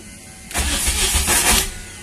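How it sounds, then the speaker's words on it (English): A car with a new loom and a no-start fault cranks on its starter motor: after a quiet moment, a loud, close, rapid rhythmic churning runs for about a second and a half without the engine catching. "That's what the starter does."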